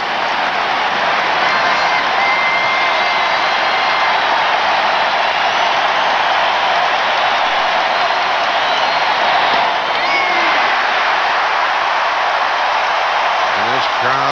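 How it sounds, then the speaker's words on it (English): A dense baseball crowd at the 1991 World Series Game 7 between Atlanta and Minnesota, hooting and hollering in a continuous loud roar that holds steady throughout. "And this crowd hooting and hollering on each pitch."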